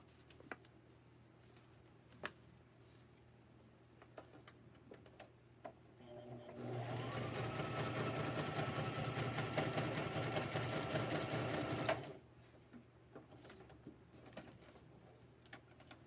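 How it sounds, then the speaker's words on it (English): Sewing machine stitching down scrap paper pieces for large handmade matchbooks, a steady close whirring run of about six seconds rising out of quiet room tone and stopping abruptly, with faint taps before and after. "Let me sew this down."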